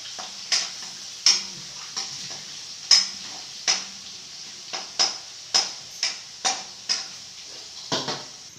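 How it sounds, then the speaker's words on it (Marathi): Regular spoon taps and scrapes against a pan while garlic and fenugreek fry in a tempering, roughly one clink per half second over a low sizzle, close and fairly loud. "लसूण छान प्रकारे हलवून घ्यायचा."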